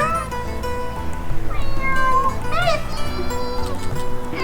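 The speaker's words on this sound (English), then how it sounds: "It's a kitty noise." A cat lets out a couple of short, rising meows close by, mixed with a steady tonal background hum and people talking.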